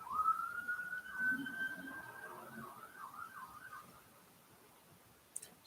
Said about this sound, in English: there were some ambulances going by.